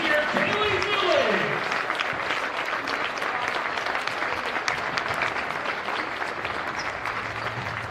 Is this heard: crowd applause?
yes